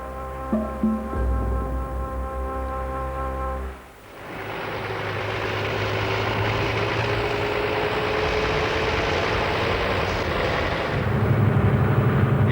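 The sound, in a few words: safari vehicle engine while driving in Tsavo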